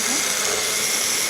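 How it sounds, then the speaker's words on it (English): A blender whirs steadily as it purees pizza sauce until smooth, a close, continuous motor drone with a broad hiss and no pauses. "There we go, and just blend it till it goes smooth."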